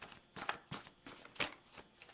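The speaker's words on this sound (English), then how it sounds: "let's shuffle one more time anyway." A deck of angel cards is shuffled by hand in a quiet room, giving a series of soft, rapid riffling bursts that repeat roughly every half second, close and fairly faint.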